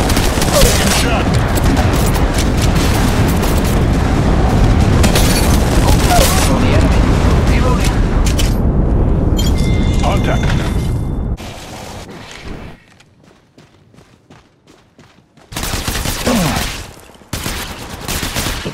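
Rapid gunfire and booms from Apex Legends Mobile, loud dense bursts for about eleven seconds, then a near-silent lull with faint sounds before heavy firing resumes.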